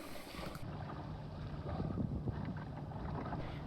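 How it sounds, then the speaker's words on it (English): A sailboat under many sails passes near a lighthouse and cardinal beacon off the coast, heard as steady rushing water and wind against the hull, continuous and fairly loud with no voices. "This is Didier's Basil overtaking me with his many sails,"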